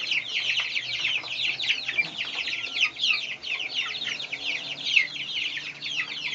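Silkie chickens in a barn cluck and peep continuously, a dense overlapping chorus of close, busy bird calls with no talking.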